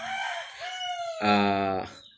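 A Sweater and Asil gamecock crows nearby, a loud drawn-out call that rises and then trails off.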